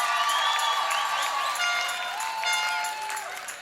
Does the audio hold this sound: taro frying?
no